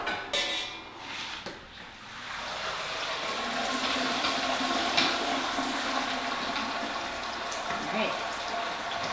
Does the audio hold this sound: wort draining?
yes